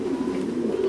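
A Thai Titan meat pigeon gives a short, low, continuous coo, close and clear, with no voices.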